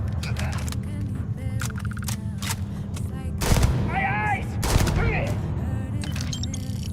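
Gunfire in the space-exploration game Starfield, repeated sharp shots and short bursts over a low ambient hum, with a voice briefly speaking amid the shooting.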